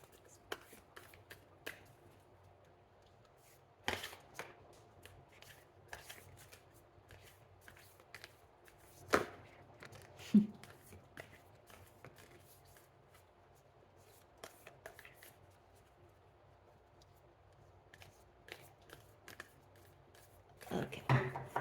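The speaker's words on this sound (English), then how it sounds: "I'm going to shuffle thrice on camera as always" Tarot cards being shuffled by hand, soft papery riffles and sharp slaps recurring irregularly at close range, quiet overall, with a louder burst of shuffling at the end and no talking.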